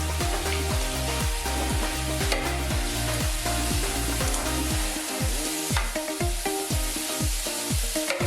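Pre-cooked beef stew meat browns in a fryer, giving a loud, dense, continuous sizzle and crackle close up, with a repeating low rhythmic thump underneath.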